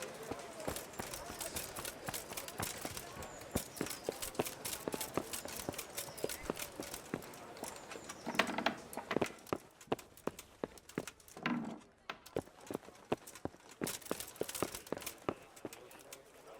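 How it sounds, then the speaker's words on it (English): Rapid, rhythmic hoofbeats of a galloping horse in the video game Kingdom Come: Deliverance clatter steadily throughout, with brief bursts of voice breaking in partway. "learn how to ride a horse."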